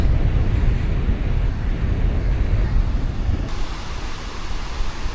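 Sea waves wash onto a sandy beach in a steady, dense roar of surf with wind buffeting close by, loud and continuous, with no talk.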